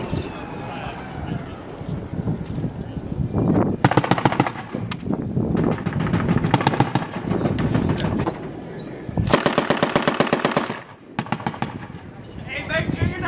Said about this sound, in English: shooting right now